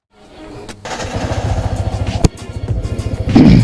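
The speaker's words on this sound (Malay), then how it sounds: "saya nak bawa motor saya jalan-jalan lebih kurang dalam 10 kilo ataupun 15 kilo ke atas lah" A Yamaha R15 v3 motorcycle starting to ride off, its single-cylinder engine thrumming in rapid close pulses that build in loudness, briefly dip, then rev up again.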